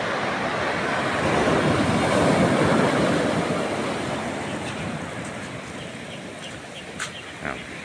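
Waves washing in at a rocky stretch of Sulok Beach in General Nakar, a steady loud surge swelling and then easing, with light wind noise over the microphone.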